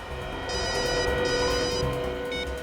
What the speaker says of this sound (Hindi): उस खबरी रघु का फोन था।